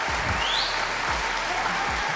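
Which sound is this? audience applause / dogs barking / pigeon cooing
audience applause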